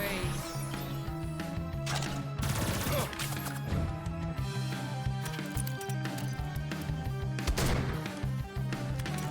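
Video game gunfire in Sunday Gold, dense bursts of shots and impacts layered over a steady game soundtrack, continuous and busy throughout.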